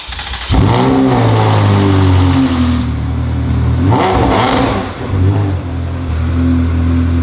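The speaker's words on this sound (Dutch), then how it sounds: "We gaan de auto nu officieel voor het eerst opstarten met ons nieuwe uitlaatsysteem." A Ferrari 360 Spider engine with a new exhaust system cranks and roars to life, then settles into a deep, throaty idle with a couple of swells in revs, loud and close.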